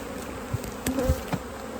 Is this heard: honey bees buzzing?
yes